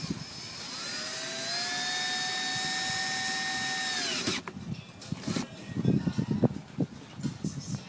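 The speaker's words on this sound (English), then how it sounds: "using a drill with a socket to pull the bolt in." A cordless drill fitted with a socket drives a bolt into a Lectra San marine sanitation unit, whining steadily for about four seconds, winding down abruptly, then followed by clattering handling noises.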